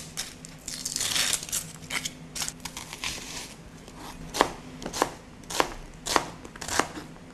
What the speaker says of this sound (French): je vais éplucher les oignons et les couper en lamelles assez épaisses